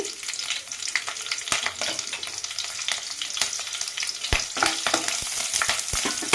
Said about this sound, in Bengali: তেলটা গরম হয়ে গেছে আমি দিয়ে দিচ্ছি কাঁচা লঙ্কা